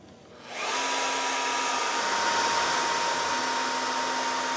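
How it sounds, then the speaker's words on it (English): A CNC router cuts fine lines into a block of wax with a small engraving bit, a steady high-pitched whine with a faint tone that starts after a brief quiet moment and holds evenly throughout, with no voices. "then we switch to a smaller bit and we engrave our lines."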